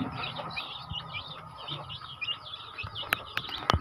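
Native chickens cluck and birds chirp outdoors at a distance, a soft steady background of fowl calls with a few sharper chirps near the end.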